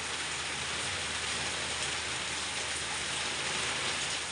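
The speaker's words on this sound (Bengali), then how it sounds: "দারুণ বৃষ্টি হচ্ছে" Heavy rain pours down in a dense, steady roar that stays constant throughout, with no voices.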